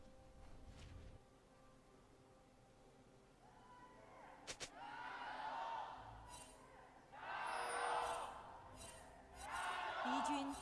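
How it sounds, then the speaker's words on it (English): Arena crowd at the LPL summer playoffs in Suzhou, JDG versus NIP, rising into swelling waves of cheering and whoops around a sharp slam, with a steady room hum beneath; the bursts build loud and broad, and no one talks. "The crowd getting into it already in Suzhou"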